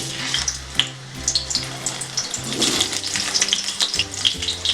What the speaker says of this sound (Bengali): এই তেলে আমি আলুগুলো ভেজে নেব হালকা করে